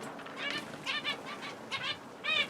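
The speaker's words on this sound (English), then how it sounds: "I was watching one of the birds that was chat calling" A Fife canary in a breeding room gives repeated short chat calls in quick clusters, fairly near, over a low steady background hum.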